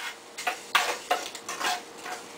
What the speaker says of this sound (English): it's sizzling because I left a nice hot pan going